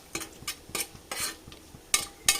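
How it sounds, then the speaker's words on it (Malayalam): Cashew nuts roast in melted ghee in a pan as a spoon stirs them, giving a series of close scraping strokes and light clinks over a soft background sizzle, with no talking. "നെയ്യൊക്കെ മെൽറ്റായി വന്നിട്ടുണ്ട് ഇതിലേക്ക് ഞാനൊരു അണ്ടിപ്പരിപ്പ് ഇട്ട് കൊടുക്കുന്നുണ്ട്"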